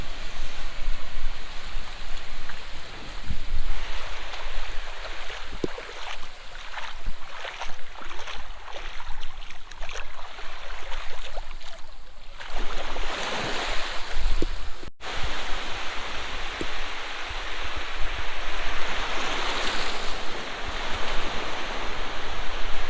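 Dawn surf rolls onto Digha beach on the Bay of Bengal, a steady broadband roar of breaking waves and wash that swells and eases without pause for the whole stretch.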